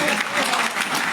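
Audience applause at a Hindi kavi sammelan poetry recital, a dense burst of clapping from a crowd, loud and sustained through the short moment.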